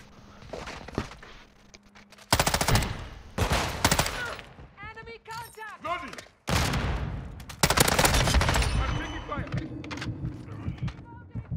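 A Fennec submachine gun fires at a very high rate in a video game, sounding as dense, rapid bursts of gunfire separated by short gaps. A player talks over the shooting at points.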